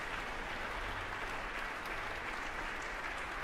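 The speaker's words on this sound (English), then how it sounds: "enjoying the applause here from the audience here in Symphony Hall" Sustained applause from a large audience at a symphony orchestra and chorus concert in Boston's Symphony Hall, steady dense clapping filling the hall throughout with no voices on top.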